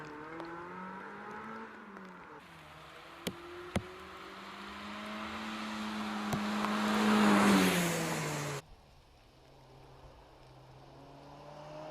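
A Mazda MX-5 races up the Prescott hill climb, its engine rising in pitch through the gears and growing louder as it approaches. The sound then cuts off abruptly to quieter background noise, with a few sharp clicks along the way.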